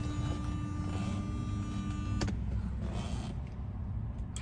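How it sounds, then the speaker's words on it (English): A steady lights-left-on warning chime sounds inside a car after the door opens, then cuts off abruptly after about two seconds, followed by quieter rustling and a faint clunk. "that noise was my car letting me know that I forgot to turn my lights off"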